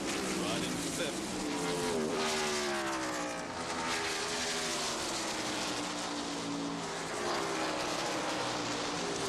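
Race cars, among them Mark Martin's, roaring around a track during a stock car race, engines droning loudly and continuously with rising and falling pitch as they pass, under a commentator's talk.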